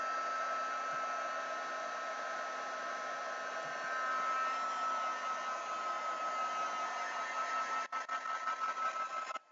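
A heat tool dries a mixed media art journal page: a steady, close, whining blower hum that runs unbroken, then stutters and cuts out at the end.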